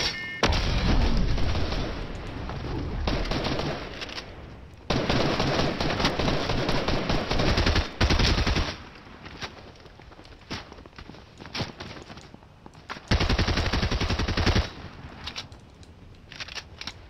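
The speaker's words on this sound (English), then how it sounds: "Whoever's trying to shoot me is just not aiming at all." Gunfire in Fortnite, long bursts of loud automatic shots broken by short pauses, with single cracks and footsteps between volleys.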